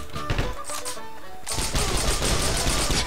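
Loud, rapid automatic gunfire from shooting in the video game Heroes and Generals, sparse bursts giving way to a dense, sustained barrage of overlapping shots in the second half.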